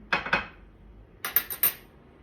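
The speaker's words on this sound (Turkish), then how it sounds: "Bir çatal yardımıyla daha sonra kabakları böyle çiziyoruz arkadaşlar" A fork scoring stripes along zucchini skin while making stuffed zucchini: quiet, sharp metallic scrapes and clicks in two short groups, first a pair and then a quick run of three, with no voice.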